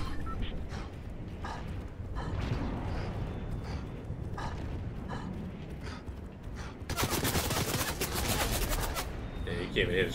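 Rapid bursts of gunfire in the video game Fortnite crackle through a busy mix of game sounds, with one dense, loud volley late on.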